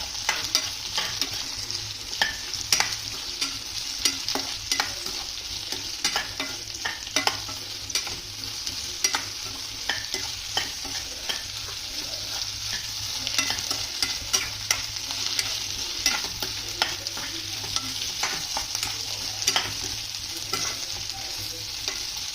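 Okra cut into lengthwise slices frying in a pan, a constant bright sizzle with frequent rhythmic clicks and scrapes of stirring throughout, close and fairly loud, no voices.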